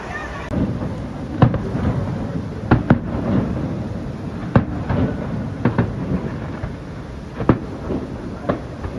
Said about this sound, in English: So there seems to be a random fireworks display going on today.